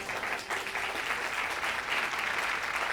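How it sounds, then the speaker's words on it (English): Sustained applause from a crowd at a school quiz competition awards event, steady and dense for the whole stretch without pause. "Round of applause for them."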